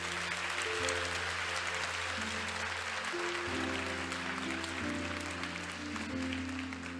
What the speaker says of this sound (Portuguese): Vamos aplaudir a vida de Deus para esse casal lindo,